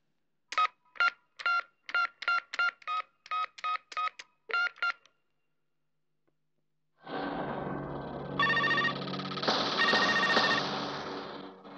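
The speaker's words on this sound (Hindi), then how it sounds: "जरा लुक्का का नंबर मिला।" A mobile phone number being keyed in: about a dozen crisp, evenly spaced dialing tones in quick succession, then a pause before a louder sustained ringing tone fills the rest.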